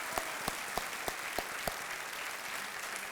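A studio audience on the KBC quiz show applauds in a dense, steady wash of clapping at close range, punctuated by several sharp individual claps at regular intervals, with no speech over it.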